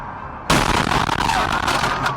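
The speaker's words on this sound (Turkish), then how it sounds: "tam o sırada korkunç bir patlama meydana geldi" An explosion at a bus stop in Voronezh, Russia: after a quiet moment, a sudden loud blast erupts, followed by a chaotic, noisy roar of debris and rumbling that lasts to the end.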